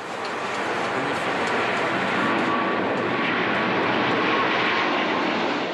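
A low-cost airline jet passes overhead near the Airbus assembly plant in Hamburg, a steady broadband engine roar holding at high volume for several seconds without letting up, and no voices can be heard.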